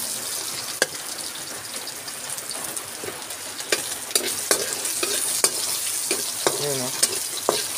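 Garlic, onion and soy sauce frying in a pan for adobo, a constant sizzle broken by frequent sharp clicks and scrapes of a stirring spoon against the pan, close and fairly loud.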